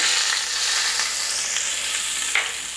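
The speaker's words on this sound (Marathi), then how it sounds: "आता ही तयार फोडणी आपण यावरून घालूया" Hot oil tempering with mustard seeds and asafoetida sizzles and crackles loudly and steadily over an onion salad, with a few sharper pops as it hits the food.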